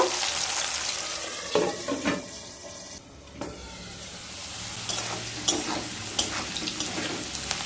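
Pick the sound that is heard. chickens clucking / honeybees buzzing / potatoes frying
potatoes frying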